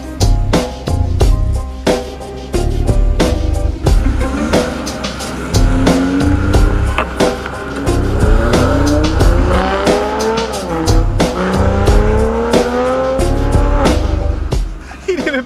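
A Toyota Supra fitted with upgraded turbos pulls away in sports mode, its engine note climbing through several rising revs with sharp tire chirps and gear changes, loud and close, fading slightly as it leaves.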